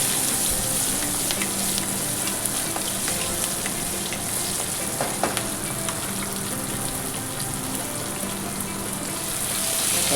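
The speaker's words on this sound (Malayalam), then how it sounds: "ഇതെല്ലാം തേങ്ങേൻ്റെ കൂടെ ഞങ്ങൾ വറുത്തെടുക്കലാട്ടോ." Shallots, garlic and grated coconut fry in hot coconut oil, giving a steady, close, dense sizzle with faint stirring crackles throughout.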